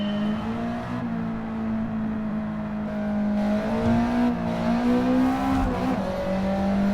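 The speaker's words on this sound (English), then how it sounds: "We'll try a different exhaust setup that we have here." A Gran Turismo 7 race car engine with a semi-racing exhaust drones steadily at high revs, a rich, raspy exhaust tone that shifts pitch slightly as it accelerates and eases, close and continuous.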